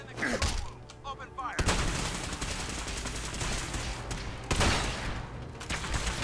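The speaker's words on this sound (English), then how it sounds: "Where's my shotgun? Shotgun takes care of them." Shotgun blasts in the game Fallout 4, with a few loud, booming discharges separated by short gaps amid other gunfire, while someone talks over the action.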